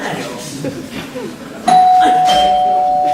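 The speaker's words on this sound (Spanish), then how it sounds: "¡El timbre!" A two-tone doorbell chimes loudly after muffled voices on a theatre stage, its ringing tone holding steady to the end of a comedy play scene.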